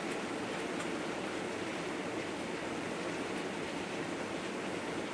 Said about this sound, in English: And you can hear the rain outside.